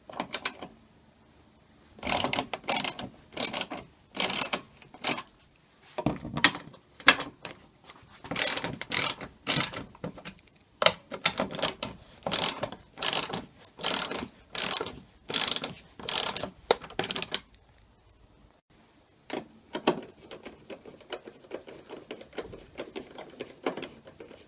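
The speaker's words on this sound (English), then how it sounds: "To remove the bumper on the top, we need to remove this screw, that screw, and that screw." A ratchet clicks in quick rhythmic bursts, loosening 10 mm screws from the top of a Toyota Aygo front bumper, with short pauses between runs of close, crisp pawl ticks.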